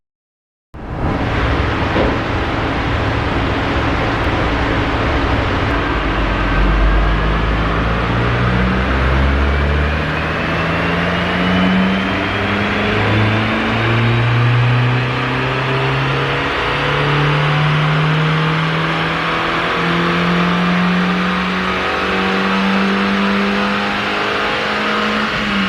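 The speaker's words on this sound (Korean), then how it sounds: "먼저 순정 ECU 상태에서 엔진 컨디션 체크를 위해 다이노 테스트를" A stock VW Golf MK4 1.8T engine revs hard on a dyno, its loud, steady drone climbing in pitch as it pulls through the gears for over twenty seconds, with no talking.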